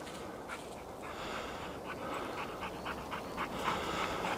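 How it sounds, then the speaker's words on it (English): A dog pants rapidly outdoors after running around, a close, steady run of quick breathy huffs over a constant background hiss for about four seconds. "And there's the panting of the dog"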